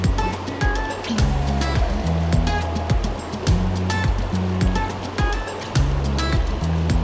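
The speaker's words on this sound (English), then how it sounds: "a lot of fast water out in front of me" Fast water of Connecticut's Salmon River rushes continuously in late winter, a dense close-up roar with steady churning texture. Intermittent tonal hums and clicks sit under the flow.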